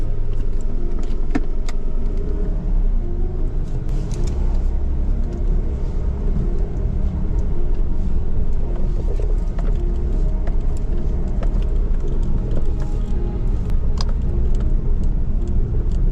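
A Chevrolet Beat diesel car is driving, with a steady low engine rumble and road noise heard from inside the cabin throughout, with no one talking.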